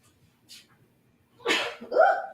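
A single sharp sneeze bursts out close by, followed by a brief voiced exhale, after a faint breath earlier.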